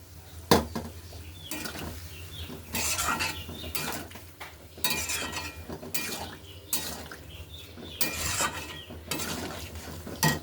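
Boiled chana dal is added to fried potato and soybean in a pan and stirred, with repeated metallic scrapes and clinks of a spoon against the pot in an uneven rhythm, close and moderately quiet.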